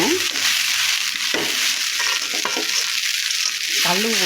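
Aval upma (flattened rice) being stirred in a hot pan, with a steady close frying sizzle and scraping stir strokes throughout, no talking.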